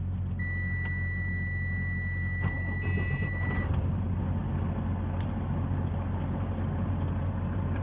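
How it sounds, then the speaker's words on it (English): A truck with a weak, nearly dead battery sits idling close by, a steady low engine rumble under a continuous electronic beep tone that cuts off partway through while the idle carries on. "let me crank this truck up"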